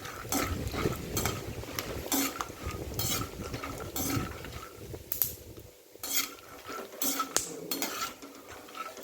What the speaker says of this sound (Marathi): आता गरम झालेलं तिला शेंगदाणे भाजलेले टाकून दिले आणि दोन मिनटं परतून घ्यायचे